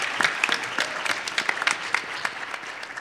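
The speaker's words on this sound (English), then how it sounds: "please give them a round of applause" An audience at a panel discussion on resilient food systems and climate change claps steadily and densely for a few seconds, with no voices on top.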